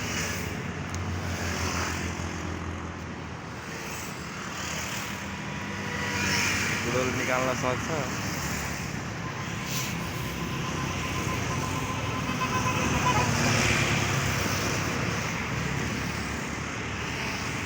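A Yamaha FZS V1 motorcycle rides away, its engine a steady drone that swells and fades over the clip while people talk nearby.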